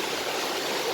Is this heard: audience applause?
no